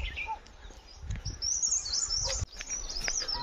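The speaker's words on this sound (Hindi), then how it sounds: "ये दूर दूर साइडों पे कई प्रकार के पक्षी बोल रहे हैं।" Several kinds of birds chirp and call from scattered distant spots during a morning walk in the Jogi Nala valley, with high tweets layered over faint low rumble from the surroundings.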